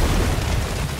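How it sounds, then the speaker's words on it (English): Loud, dense explosions rumble continuously in God of War gameplay, a heavy booming roar with no pauses and no voices. "Explosions."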